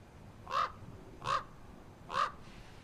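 A raven calls three times, evenly spaced harsh caws standing out clearly from a quiet, hushed background.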